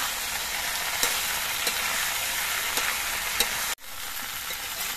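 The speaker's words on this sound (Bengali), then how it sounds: "এবার সব কিছু নেড়ে চেড়ে মিশিয়ে দিতে হবে।" Shukto vegetables fry in a pan with ginger juice, giving an even, close sizzle with a few soft stirring knocks, then a brief dip before the hiss resumes; no one talks.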